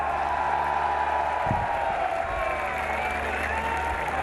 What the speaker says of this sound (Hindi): तालियों की गूंज में बताइए कि इमरान खान से कितना प्यार है